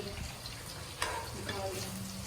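Oil sizzles steadily as ingredients for bhindi gosht fry in a pan. A couple of sharp utensil clicks from stirring cut through the even hiss, and no one speaks.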